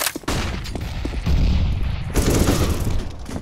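Rapid bursts of gunfire from the video game CS:GO, loud and continuous, with dense repeated shots and booming reports over about three seconds.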